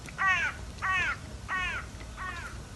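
A crow caws four times in a steady, evenly spaced series, each call harsh and fairly close, heard outdoors while butter is being churned by hand.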